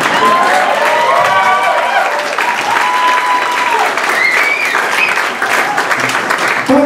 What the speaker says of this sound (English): Y'all got to clap loud and they can't hear you.